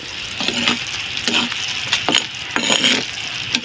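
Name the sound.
stirring sticky rice (malagkit) in a pot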